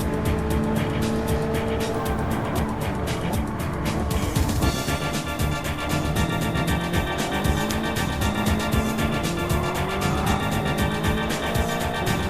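Racing car engine roaring continuously in a circuit racing video game, with tire squeal as the car oversteers mid-corner, loud and steady throughout, no talk.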